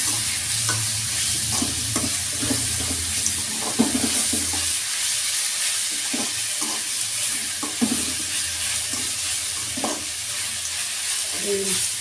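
Potatoes sizzle steadily as they fry in a pan with salt over a medium flame, with repeated scraping stirs throughout.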